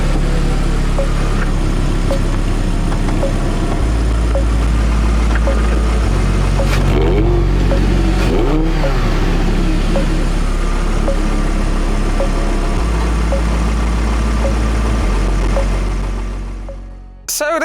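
An Audi R8 V10 engine runs loud and close, a steady drone that steps up and down in pitch several times, with a brief rising rev in the middle and a sudden drop at the end.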